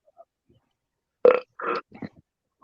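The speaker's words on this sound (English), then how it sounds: "Belch." A single loud belch rings out close by, followed by a couple of shorter guttural bursts, then quiet.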